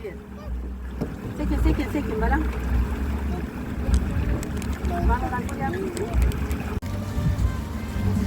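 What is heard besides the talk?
boat moving on water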